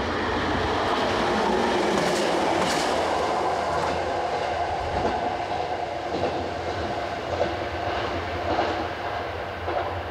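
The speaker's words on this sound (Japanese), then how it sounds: "山あいに列車の音がよく響きます。" A train rumbles past a small mountain station in Karakawa, Kyoto, with a steady roar and rail clatter, loud and close throughout, echoing faintly among the hills.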